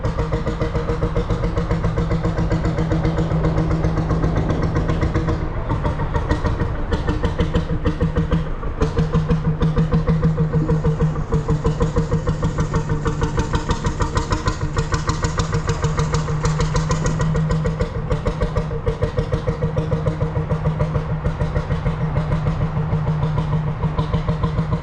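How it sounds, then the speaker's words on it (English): A 15 hp single-cylinder Bolinder semi-diesel engine on a working boat runs steadily and loudly close by, its even rapid thumping pulse continuing throughout with no voices. "it's a 15 horsepower single cylinder Bollinger semi-diesel engine"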